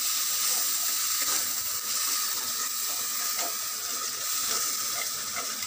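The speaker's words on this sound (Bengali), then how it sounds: "এই জলটা, মশলাগুলোর জলটা এর মধ্যে দিয়ে দিলাম।" Spiced water from ground spices poured into a hot pan while cooking Bengali aloo posto, giving a loud, steady sizzle and hiss that holds without a break and with no talk over it.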